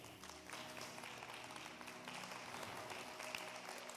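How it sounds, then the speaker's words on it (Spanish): A church congregation breaks into applause, a faint, steady patter of clapping lasting a few seconds with no speech over it. "dale un aplauso al Señor."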